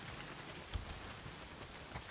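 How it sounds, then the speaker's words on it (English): Steady rain pours down in the open-world zombie game Days Gone, a dense even hiss with a few soft thuds, heard alone with no voices. "Well, not if it's pissing down rain."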